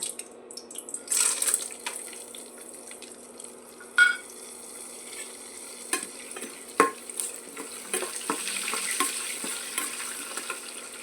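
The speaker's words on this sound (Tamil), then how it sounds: "இப்போ எண்ணெய் காஞ்சிடுச்சு ஜீரகம் வேர்க்கடலை சேர்த்துக்கலாங்க" Cumin seeds and peanuts fry and splutter in hot oil while being stirred, for a village-style moong dal and beetroot kootu: a soft, steady sizzle broken by scattered crackles and occasional spatula scrapes, with no talking.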